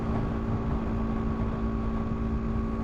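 A BMW G310 GS motorcycle cruising at 70 mph with its single-cylinder engine spinning near 6,800 RPM, a steady high buzzing drone mixed with wind rush, constant and close.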